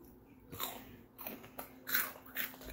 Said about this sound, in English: And you can actually eat in front of the camera. And they'll hear it. And then, like, a little crunchy noise, like what I'm doing.